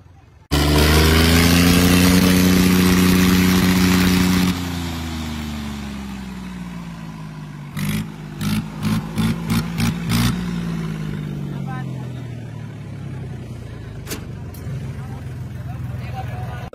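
A small Swaraj or Mahindra farm tractor starts with a loud, steady diesel engine note that slowly drops in pitch, then gives a run of short throttle blips before settling into a quieter idle with sharp clicks; voices talk near the end.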